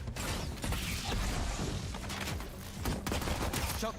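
Weapon reloading in a tactical video game, heard as dense mechanical clicks, ratcheting and metallic clatter mixed into busy in-game ambience and distant gunfire.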